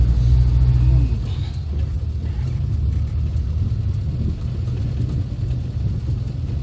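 A modified classic Mini drives over a rough, poorly surfaced road near an airport on the Isle of Wight. A steady close rumble of engine and tyres comes from inside the car, with a heavier thump near the start.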